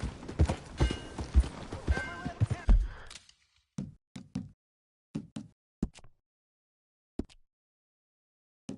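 Horse hooves in a video game, first buried under busy game sound and a voice, then heard alone as scattered, irregular clopping hits with short gaps between them.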